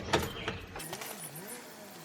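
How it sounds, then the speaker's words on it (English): Ignition key in a pickup truck being turned to the off position, a short metallic jangle and click of keys up close, followed by a fading low hum as the truck powers down. "Turn key to off position."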